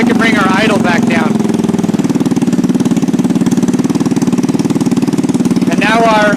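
GY6 scooter engine idling steadily just after a carburetor idle adjustment, a close, even mid-pitched putter running throughout while someone talks over it at the start and end.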